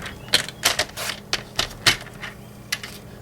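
Card paper being cut for a handmade mask card, heard as a run of sharp, close, clicking cuts in an irregular rhythm, about eight distinct snips and chops with no talk.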